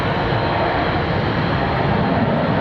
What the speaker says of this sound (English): You can hear it getting ready to go. Gonna come at us pretty quick.